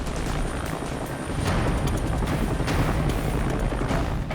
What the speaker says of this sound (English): Lifting the patient to the helicopter requires a high hover, an essential but risky maneuver.